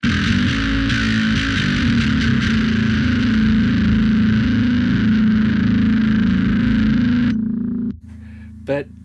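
Bass guitar run through a high-gain BONESTAGER pedal plugin with a noise gate, a thick, buzzing distorted sustained note that cuts off abruptly into near silence, followed by a brief short stab.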